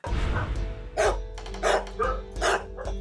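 A hunting dog barks five or six times in steady bursts about half a second apart, close and fairly loud over a low rumbling background, with no one speaking.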